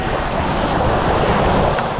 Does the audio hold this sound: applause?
no